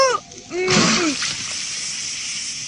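Cartoon sound effect of water thrown from a bucket onto a fire behind a character, a loud sudden splash and sizzling wash after brief cartoon voice sounds, trailing into a steady hiss.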